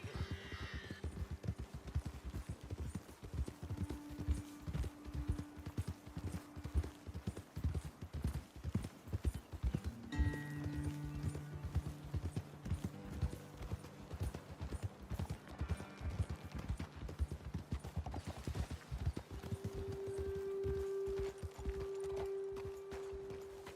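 Steady clip-clop of horse hooves trotting over ground in Red Dead Redemption 2, close and continuous, with brief tonal game sounds layered in and no talking.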